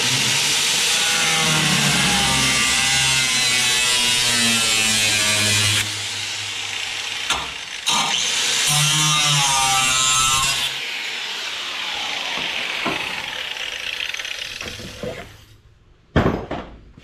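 A power tool cuts into the metal of a 1969 International Loadstar truck cab. Loud, close whining and grinding comes in bursts with short pauses, then stops near the end with a final clunk.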